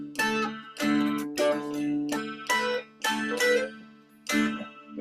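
A dulcimer plays a Latin rhythm, its bright, ringing notes struck in short syncopated bursts separated by brief gaps, close and fairly loud, with no voice over it.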